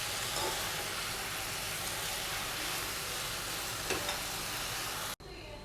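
Tomatoes and peanuts fry in a pan with a steady, dense sizzle and occasional scrapes of stirring, close and continuous until an abrupt cut near the end.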